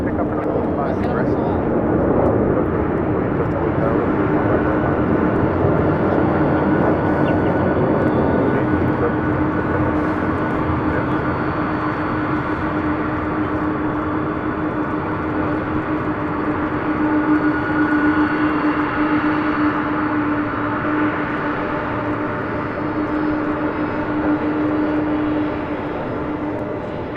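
A 28-year-old Boeing 747 freighter, first delivered to Singapore Airlines Cargo in 1995, takes off from LAX, giving a constant heavy jet roar with a droning engine tone throughout and some talk underneath.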